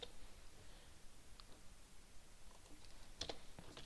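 Faint typing on a computer keyboard while entering VBA code, a quiet, steady run of light key clicks with a few sharper taps near the end.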